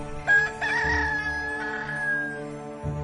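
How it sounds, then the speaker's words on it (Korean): A rooster crows once in a long drawn-out cock-a-doodle-doo, loud and close, played as a sound effect during a church Bible reading about Peter's denial, with no talking over it. "곧 닭이 울더라."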